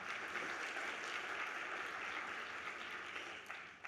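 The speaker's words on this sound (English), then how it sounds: "let's give them a round of applause" Audience applause at a talk on ending gender-based violence, a soft, steady wash of clapping heard from a distance that thins out at the end.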